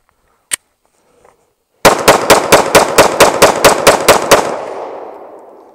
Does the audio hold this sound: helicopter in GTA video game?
no